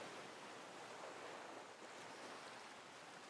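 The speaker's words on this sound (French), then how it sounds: "le son régulier, reposant des vagues" Soft, steady wash of ocean waves with a constant broadband hiss, calm and continuous throughout, no voices.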